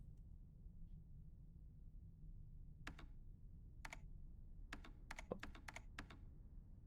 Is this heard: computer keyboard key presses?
yes